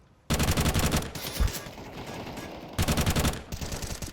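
Rapid automatic gunfire exchanges in a first-person shooter game on the Train map, loud sustained bursts separated by a brief lull, then a second burst and answering fire.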